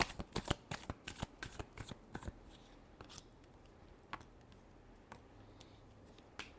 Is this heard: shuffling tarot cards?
yes